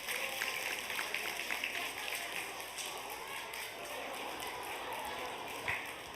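A church congregation claps together during a Sunday service, a steady dense patter of many hands that holds for several seconds, moderately loud in the hall, with a brief surge near the end.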